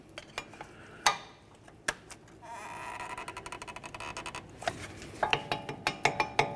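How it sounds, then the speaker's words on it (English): A pry bar works against the front brake caliper of a 2014-2020 Nissan Rogue, giving sharp metallic clicks and ratcheting scrapes close by, with a steadier grinding stretch midway and a quickening run of clanks at the end. "we're just going to gently pry, push back the caliper a little bit so it has some movement"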